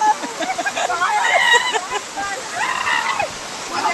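A waterfall at Mahur gives a steady, loud rushing roar throughout, with voices chattering over the top.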